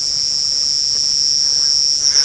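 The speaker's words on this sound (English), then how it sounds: "the loudest one is an armored ground cricket that we're hearing" Armored ground cricket and other crickets shrilling at dusk on an African safari drive, one loud piercing continuous high buzz dominating close by over a faint background of other insects, steady throughout with a slight wobble at the end.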